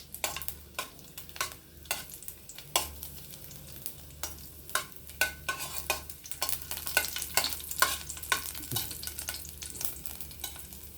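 Chilies and garlic frying in oil for a kara chutney, stirred with repeated sharp scraping clatters over a steady low sizzle, fairly close and with no talk.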